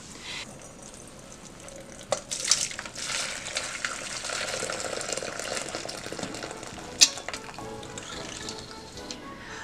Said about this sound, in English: I poured boiling water into the bowl with the dye